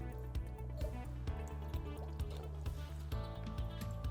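Water is poured from a bottle into a flow reservoir during maintenance of a DULCOEYE LT unit, a faint trickling and dripping stream with small splashes, steady for a few seconds and no talking.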